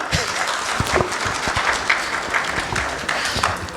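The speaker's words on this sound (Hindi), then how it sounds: "अगर समझ आइए तो तालियां बजा दो।" Audience at a security-camera road show in Islamabad applauds, with dense, steady clapping and scattered sharper claps filling the room for a few seconds, loud and close.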